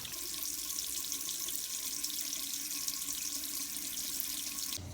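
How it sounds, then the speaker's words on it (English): Hot water runs steadily from an open faucet during a flush of a Truma RV water heater system, a continuous broadband rush with a faint tonal hum, constant and fairly close, with no talking. "open all the faucets, run the hot water for about 8 gallons worth"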